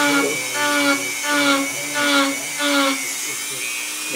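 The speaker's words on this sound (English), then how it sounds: "I've done a lot of sheetrock work with this particular Dremel, so it complains every once in a while." A Dremel rotary tool with a burr carves a round texture, whining steadily with pulsing rises and dips in pitch as it bites in, close and loud, without talk.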